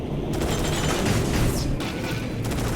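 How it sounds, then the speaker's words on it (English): Cannon fire in a combat racing video game on the Special Stage Route 11 track: loud, dense rumbling booms roll on continuously with no break or voices. "Cannon."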